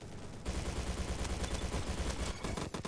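Rapid AK rifle fire crackles in the video game Bad Business, a dense automatic burst that starts abruptly and rattles on for a couple of seconds, with no talking.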